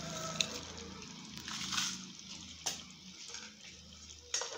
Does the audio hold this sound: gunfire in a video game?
no